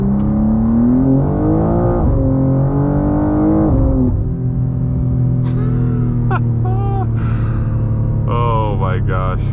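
A BMW G87 M2 with an M2CS tune accelerating, its engine droning and rising in pitch through gear changes, loud and close from inside the cabin, with someone speaking over the later part.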